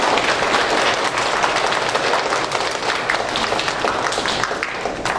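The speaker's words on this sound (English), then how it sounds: "Everybody, give him a big round of applause." Sustained audience applause for Mr. Richardson at a school Constitution Day event, a dense steady clapping from a room full of people that stays loud and even throughout.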